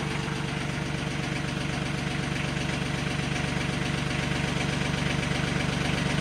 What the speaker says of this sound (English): now I'm gonna run the hydraulics up and down, make sure everything works